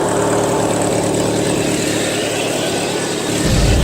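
Craftsman LT1000 lawn tractor engine running steadily at close range, a loud continuous mid-pitched drone with no speech, swelling slightly louder near the end.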